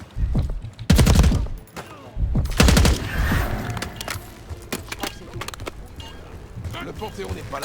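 Gunfire in the video game Call of Duty Black Ops 6: loud bursts of automatic fire in two main volleys, then scattered sharper shots and rattling action continuing under speech.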